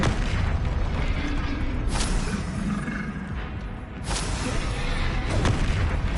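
Dense, continuous rumbling of Bombarda blasting-spell explosions in Hogwarts Legacy, with a few brighter bursts cutting through the steady, loud roar of spell combat.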